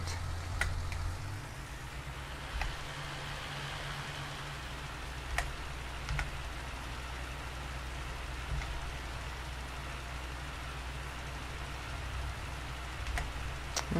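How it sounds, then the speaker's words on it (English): Steady rain patters softly over a low engine-like hum in the video game Farming Simulator 19, with occasional sharper drops ticking through the even wash. "It's just raining and raining and raining here today."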